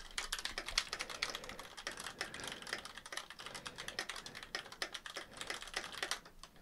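A computer keyboard is typed on steadily, recorded through a budget streaming microphone, giving rapid irregular clicky keystrokes, fairly quiet and close, with no talking.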